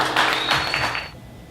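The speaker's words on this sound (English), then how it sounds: "Let's give a round of applause for Brother John L." Audience applause for a spoken word performer being welcomed to the stage, a steady wash of clapping that is fairly loud and close, fading out after about a second.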